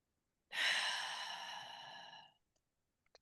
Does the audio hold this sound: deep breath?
yes